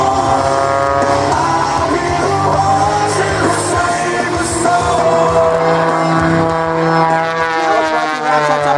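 An aerobatic plane at an airshow rehearsal in Rome, Georgia gives a loud, steady engine and propeller drone that rises and falls in pitch through its rolls, with faint crowd or announcer voices beneath.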